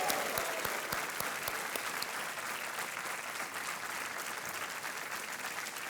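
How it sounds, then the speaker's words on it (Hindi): Steady applause from a TV game show studio audience fills the room, dense clapping that holds at an even level throughout. "एक बार फिर तालियों के साथ इनका अभिनंदन।"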